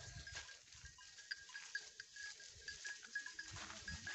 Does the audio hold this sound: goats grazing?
yes